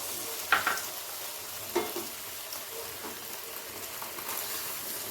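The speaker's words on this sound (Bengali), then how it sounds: "ওই পিঠটা ভেজে নেওয়া হয়ে গেছে। তো এই পিঠে আর একটু তেল ব্রাশ করে দিচ্ছি আমি।" A paratha fries in oil in a pan for a Kolkata-style egg roll, with a steady crackling sizzle and a few sharper pops and scrapes along the way.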